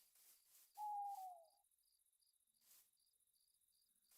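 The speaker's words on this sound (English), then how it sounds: "I hear the owls." Owls hoot at night in the video game Minecraft, a single soft, drawn-out hoot rising above a steady, faint chirring of crickets and sparse rhythmic pulses in a quiet night ambience.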